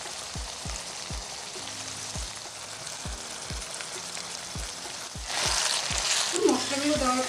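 Ginger and spices fry in a pan of cooked-down tomatoes for a village-style Bengali chicken curry, a constant sizzle broken by evenly spaced dull knocks from stirring, then a louder, brighter hiss near the end.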